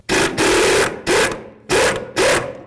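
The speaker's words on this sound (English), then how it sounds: "We're going to remove this 21mm nut." A 21mm nut being removed from the upper sway bar link on a 2006–2010 Dodge Charger, heard as four loud, close ratcheting bursts separated by short pauses.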